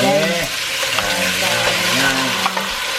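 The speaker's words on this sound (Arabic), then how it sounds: "ايه حط سمنه وعم بيقلي اللحم" Meat sizzling and frying in ghee in a pan, a steady bright crackle that runs throughout the whole clip and stays close and loud with no talk over it.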